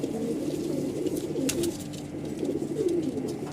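A red pigeon with cream-white eyes coos on a rooftop, giving soft, low, throaty rolling calls close by with faint background noise.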